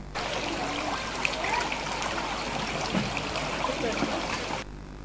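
A river stream flows steadily, a continuous broadband rush of moving water that holds even throughout.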